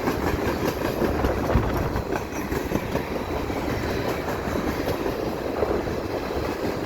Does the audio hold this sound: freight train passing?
yes